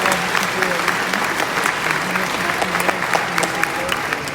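A fan convention panel audience applauds an actor, dense sustained clapping filling the room with a murmur of voices underneath.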